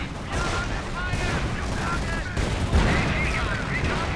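Dense gunfire and explosions rattle through a World War II strategy game battle, with sniper fire, anti-tank guns and a Pershing tank under attack, sounding as continuous overlapping shots and booms at mid distance.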